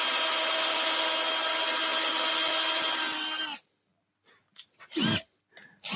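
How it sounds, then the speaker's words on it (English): A drill bit bores into wood on a lathe, giving a steady whining, grinding tone for a few seconds that cuts off sharply, followed by a few faint knocks and brief rubbing noises. "The drill bit needs a sharpen, Ben."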